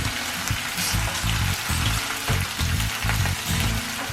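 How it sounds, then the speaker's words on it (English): Onions frying in oil for Ethiopian shiro give a steady, close, loud sizzle and crackle that runs unbroken, with a rhythmic low thumping underneath and no talk. "continue to cook those onions down even more."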